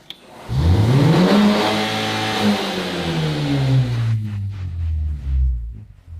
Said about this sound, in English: Look, if I just go full throttle.